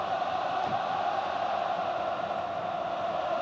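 Football stadium crowd at an AFC Champions League Elite final between Al Ahli Saudi and Kawasaki Frontale, just after a penalty is awarded, sends up a steady, distant roar that holds level throughout with no talk.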